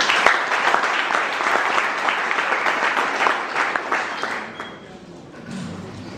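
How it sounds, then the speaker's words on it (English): Sustained applause from a symposium audience in a university hall, dense steady clapping from many hands that carries on for several seconds before fading away near the end. "And I think you deserve a round of applause for what you've done."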